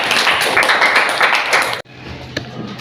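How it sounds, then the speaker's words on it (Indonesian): A group at a teacher training session applauds, dense steady clapping filling the room for nearly two seconds before cutting off abruptly, followed by a quiet pause and a single faint tap. "kita berikan tepuk tangan"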